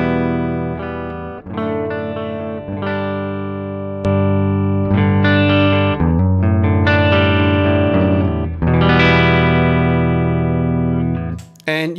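Electric guitar played through a Joyo amp-simulator pedal on a clean setting, ringing chords and single notes sustaining steadily with a brief pause near the end, loud and close with no talking.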